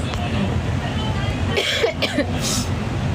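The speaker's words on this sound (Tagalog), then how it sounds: "Wait lang inuubo kasi talaga ako." A few coughs burst out over a steady rumbling background, close and fairly loud, clustered together near the end.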